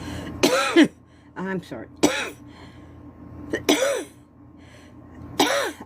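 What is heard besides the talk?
cough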